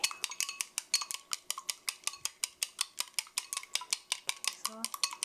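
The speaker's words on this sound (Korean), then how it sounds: "노른자부터 톡톡 터뜨리시고 저어주세요" Beaten egg yolk and white stirred briskly in a bowl with a utensil, giving rapid, steady clinking taps, close and clear, with faint talking at times.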